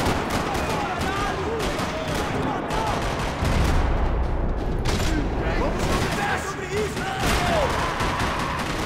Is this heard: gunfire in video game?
yes